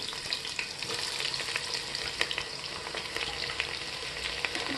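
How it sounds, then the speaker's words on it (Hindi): Sliced onions hit hot oil with toasted garam masala for a vegetable pulao, giving a steady, dense sizzle and crackle throughout, with occasional sharper pops and faint stirring scrapes, close and alone without voices. "अब इसमें हम डालेंगे ये जो 2 प्याज को हमने स्लाइस करके रखा था, उसको डाल देंगे"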